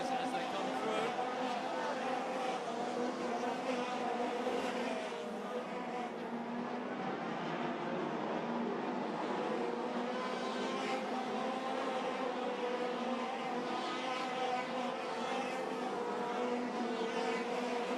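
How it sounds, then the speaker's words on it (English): Race cars circling an oval track at Arena Essex in an online racing game, with steady layered engine drones running continuously under a commentator's voice. "The 111 car will hopefully keep out of the way of the racers as they come through"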